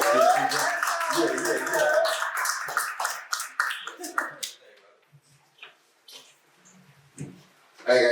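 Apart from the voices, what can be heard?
audience clapping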